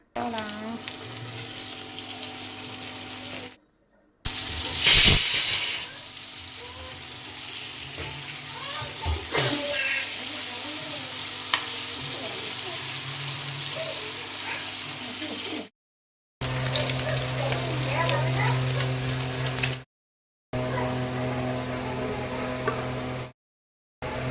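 Fish pieces frying in hot oil in a home kitchen: a steady sizzle and occasional stirring, mixed with running tap water and sink sounds, broken by a few short silent gaps.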